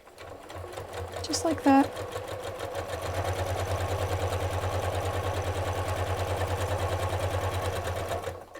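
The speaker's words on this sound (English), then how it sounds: "I'm going to stitch right on that edge with a very small stitch." Sewing machine running steadily, stitching with a very small stitch along the edge of a holiday stocking made from an old quilt; a brief clatter comes early, then a continuous hum through the rest, with a short spoken remark near the start.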